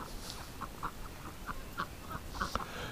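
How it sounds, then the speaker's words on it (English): Muscovy ducks on a farm giving a run of short, soft quacks, roughly one every third of a second, moderately close over a rustling outdoor background with no talk. "Oh, there's that Muscovy."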